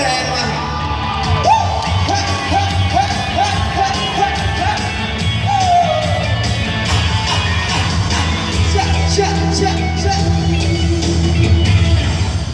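A large crowd at a Thai party event shrieks and cheers loudly and continuously, with high whoops rising over a dense, sustained roar of voices.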